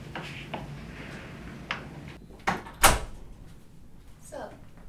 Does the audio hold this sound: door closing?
yes